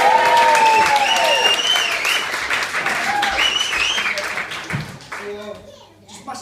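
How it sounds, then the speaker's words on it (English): Wedding guests clap and cheer loudly during the groom and best man speeches, a dense burst of applause mixed with voices, including children's, that slowly fades. "Cheryl here, the new Mrs. Ramsay, will have a cheer for her"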